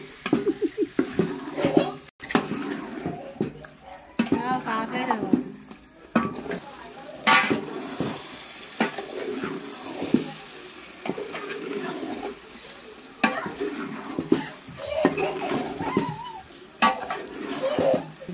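Gudalu with chicken are stirred and cooked in a pan, with repeated scraping and clattering strokes over a soft sizzle, close by, while a voice talks intermittently.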